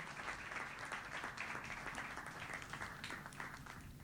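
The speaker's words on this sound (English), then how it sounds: "Let's have a huge round of applause, everyone, for Ms. Aastha Chawla." Faint, steady applause from a conference audience greeting a panelist, a dense wash of many hands clapping at low level throughout with no talk over it.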